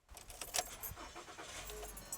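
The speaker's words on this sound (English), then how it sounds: "People get into their car, turn on the ignition," Car keys jangle near at hand as the ignition is turned, a short quiet burst of metallic clinks followed by a soft low engine rumble.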